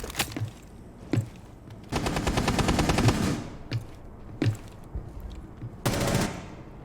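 Gunfire in a shooter video game: sharp single shots, several sustained automatic bursts and a few spaced reports, loud and close with no talking.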